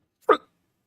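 A single short hiccup, close and clear, standing alone against silence.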